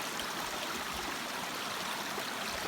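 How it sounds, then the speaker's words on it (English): Small waterfalls in the Canadian wilderness give a steady, dense rush of flowing water, close and continuous throughout with no voices. "there's a view of the cute little waterfalls"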